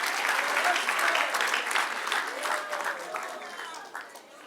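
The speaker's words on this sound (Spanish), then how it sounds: "Denle un aplauso al que reina, hermano." A church congregation claps and cheers together in a sustained round of applause during a sermon, fading toward the end, with a preacher's voice calling out over it.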